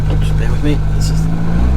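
A Lada Riva with an aftermarket exhaust gives a steady low engine drone, its rumble running continuously beneath people talking close by inside the car.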